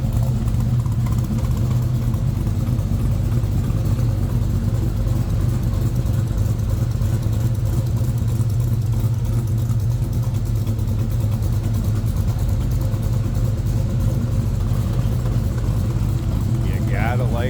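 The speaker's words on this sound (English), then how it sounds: "Let's check out this rumble." A 1972 Chevrolet C10 pickup engine rumbles steadily with a deep, loud, continuous low drone throughout, heard up close with no pauses.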